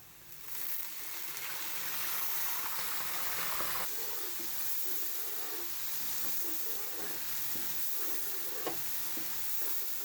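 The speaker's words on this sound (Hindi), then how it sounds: "अब जैसे लहसुन हमारा थोड़ा फ्राई हो जाएगा" Crushed garlic sizzles and hisses in a hot pan with a little water while cooking beef nihari, a steady close-up frying crackle with bubbling steam and no talking.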